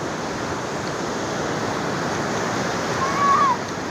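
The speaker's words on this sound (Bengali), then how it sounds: "ঢেউগুলো বড় বড় ঢেউ" Large ocean waves break and wash steadily on Marina Beach in Chennai, a continuous loud roar of surf with wind across the microphone and a brief swell of noise near the end.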